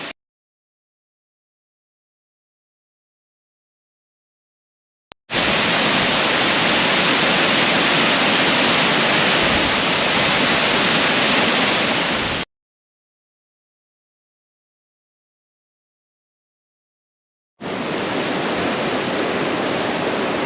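A waterfall and water rush down a mountainside on Beinn Bhuidhe in wet weather, a loud, steady roar that cuts in and out in two long stretches separated by silence.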